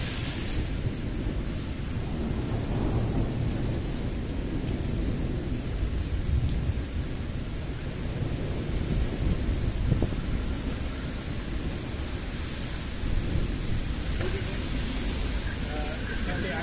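A severe thunderstorm over Ingolstadt brings near-continuous rolling thunder over steady heavy rain for the whole stretch, a dense, loud roar with swells of rumbling and no clear gaps.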